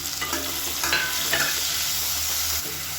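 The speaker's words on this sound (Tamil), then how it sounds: "இப்போ இதில் மீடியம் சைஸாக ஒரு வெங்காயம் நீளமாக நறுக்கணும் சேர்த்து நல்லா பொன்னிறமாக வர அளவுக்கு வதக்கி விட்டுக்கணும்" Sliced medium onion sautés in oil in a pan for biryani, with a steady sizzle and a few stirring scrapes, close and alone.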